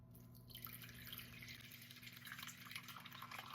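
Warm water runs steadily from a kitchen tap, splashing continuously into a container partway through mixing sourdough bread dough after feeding the starter, with no talking over it.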